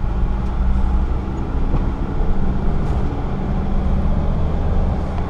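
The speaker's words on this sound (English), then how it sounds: "Vehicle starts right up, no smoking." A 2003 Sprinter conversion van idles steadily with a low, continuous engine rumble that stays even and unbroken throughout, with faint outdoor ambience behind it.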